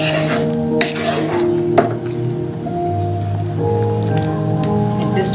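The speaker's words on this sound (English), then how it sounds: "Give it a stir." Prawn masala curry with boiled potatoes is stirred in a pot, giving a busy, close bubbling sizzle with clinks of a utensil against the pan and no voices.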